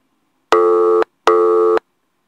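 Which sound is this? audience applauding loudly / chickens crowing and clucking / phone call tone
phone call tone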